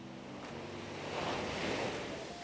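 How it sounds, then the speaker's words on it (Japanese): Ocean waves wash in at the shoreline at sunset, a steady wide rushing surf that swells slightly louder midway, with some wind in the background and no voices. "波の音いかがでしょうか"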